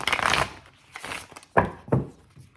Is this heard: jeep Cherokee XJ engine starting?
no